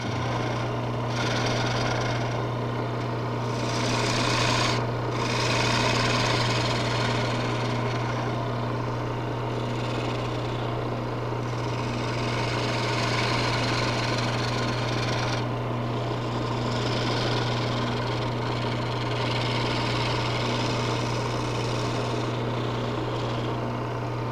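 Wood lathe spinning a baluster blank during turning, a steady low motor hum with a continuous whirring, broadband cutting hiss that swells and dips as the tool works, no talking.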